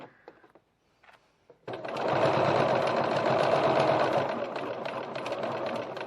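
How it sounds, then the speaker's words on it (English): A sewing machine back tacking the top edge of a bag's slip pocket, running loud and steady for about four seconds after a brief quiet start with faint handling noises. "I like to back tack several times at the top of the edges of pockets to secure them properly"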